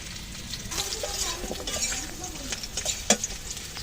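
Pieces of teasel gourd and potato fry in hot oil in a pan, a soft continuous sizzle broken by scraping stirs and one sharp clack of the utensil near the end, fairly quiet and close.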